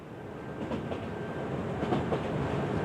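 A passenger train bound for King's Cross rumbles steadily along the rails, its low continuous roar joined by soft rhythmic clicks from the wheels, heard from inside the carriage.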